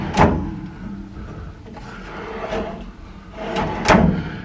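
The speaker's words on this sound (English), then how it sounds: "You've got 2 of these wire rack drawers." Wire rack drawer in a Carnival Mardi Gras cruise ship cabin sliding open, a close rattling metallic scrape with a sharp clack at the start and another near the end, no voices.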